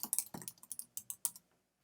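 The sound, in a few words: typing an article on a computer keyboard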